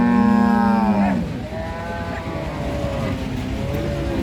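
A cow gives one loud, close, drawn-out moo at a cattle market, followed by a lower, fainter lowing over steady background murmur and noise.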